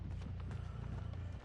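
Hooves of a zombie horse in a video game clop in a quick, steady rhythm, close and fairly soft, with no other sound over them.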